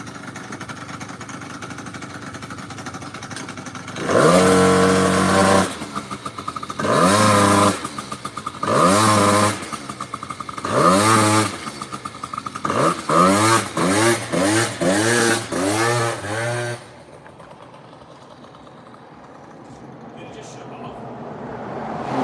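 A motorcycle with a bent rear wheel idles and is then blipped through a run of sharp, loud revs, close by. The revs come in short bursts that speed up before it drops back to a low idle, with people talking nearby.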